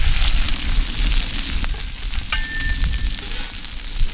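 Pork cutlet sizzles loudly in a hot pan with garlic and rosemary needles, a dense steady frying hiss and crackle with a faint stir partway through, no talking.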